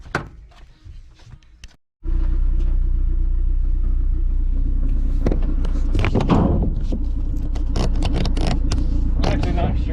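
A turbocharged Honda Civic starts rumbling loudly after a brief cut to silence, and scattered knocks and rattles sound over the steady engine drone while driving.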